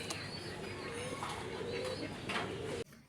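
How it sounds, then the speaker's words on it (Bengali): Large orange pigeons coo repeatedly in low, throaty calls at close range, with a faint chirp or two and slight background noise, until a sudden drop near the end. "কমলা কালার বড় পায়রা"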